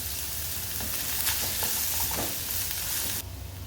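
Chopped onion fries in hot oil with bay leaf, cinnamon, fennel and cumin, a continuous close sizzle with a few stirring scrapes and knocks partway through.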